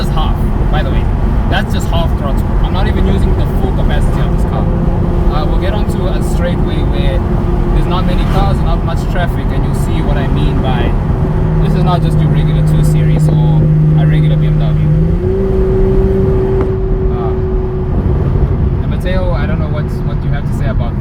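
BMW M240i engine pulling steadily at half throttle, a sustained droning note heard from the cabin that rises slightly toward the end, with a voice speaking over it.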